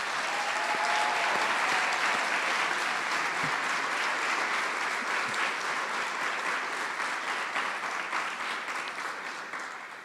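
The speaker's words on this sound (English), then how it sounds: "Let's give them a round of applause." Commencement audience applauding the NVU Johnson graduating classes of 2020 and 2021, a long, full crowd applause with steady density that tapers slightly toward the end.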